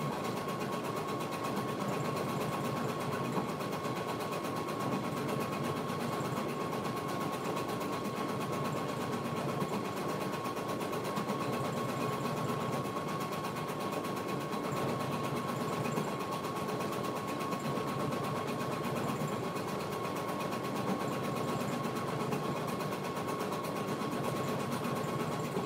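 A multi-needle embroidery machine stitches a patch with a steady, continuous mechanical hum and rapid needle chatter, unchanging and moderately loud throughout the clip with no talk.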